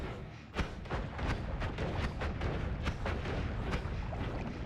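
Explosive projectile blasts in the Noita video game, a rapid string of sharp booming bursts and thuds one after another, loud and dense with no talking over them.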